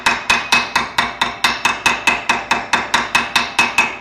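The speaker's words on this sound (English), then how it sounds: "By hammering it down, I actually overbend it." A carpentry hammer strikes metal in a fast, even run of about seventeen sharp, ringing blows, close and loud, while fabricating on a car floor, with no talk.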